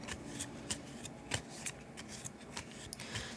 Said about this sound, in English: now I shuffle the Robokid's discard pile to form a new deck